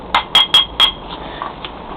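A hammer strikes a metal bolster chisel against a lock in four sharp, ringing metallic hits in quick succession, loud and close, followed by faint clinks.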